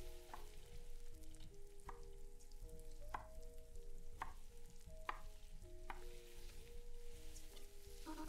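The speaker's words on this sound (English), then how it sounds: "we're chopping the carrots" Carrots being chopped in the video game MiSide, a run of sharp knife knocks on a board at a fairly even pace over a soft game music background, with no talking.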